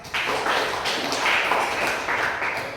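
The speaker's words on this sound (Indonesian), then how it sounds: "Ya, berikan aplaus." A classroom gives a round of applause, with dense overlapping claps at moderate distance sustained for a few seconds and no talk over it.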